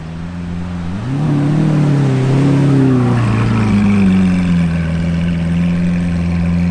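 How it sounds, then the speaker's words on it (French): Two Ferrari F8 Spider sports cars drive past on a street in Monaco, their loud, close engines rising in pitch as they accelerate and then droning steadily on. "on a un duo de F8 Spider qui débarque ici"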